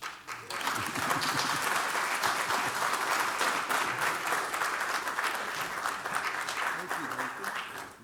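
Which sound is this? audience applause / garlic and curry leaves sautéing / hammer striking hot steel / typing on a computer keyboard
audience applause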